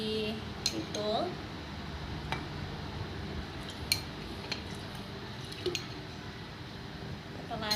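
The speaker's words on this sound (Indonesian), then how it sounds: "Setelahnya kita aduk." A spoon stirs 30 grams of salt into 200 ml of water in a glass, giving faint scattered clinks and tinkles against the glass under a low background hum, with a voice talking at times.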